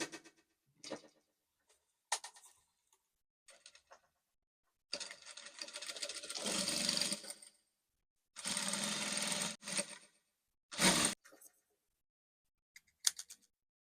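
A sewing machine stitches lace for a Bubu dress in short clicking bursts and a few longer whirring runs, close up and quiet, with silent gaps between.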